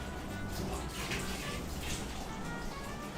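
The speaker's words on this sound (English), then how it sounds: "Rinse it out." Running tap water splashes steadily into a kitchen sink as items are rinsed, a continuous close hiss without pauses.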